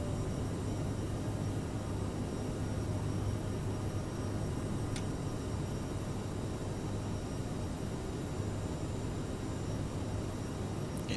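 CRJ700 jet engines during the climb after takeoff with flaps clean, on a Boston to Philadelphia flight, heard as a loud, steady cabin roar with a low hum that holds unchanged throughout.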